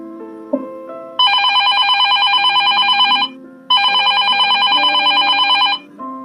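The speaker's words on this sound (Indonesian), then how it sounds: "Terdengar suara dering ponsel" A phone rings in two long electronic bursts with a short pause between, loud and close, over quiet low background sound.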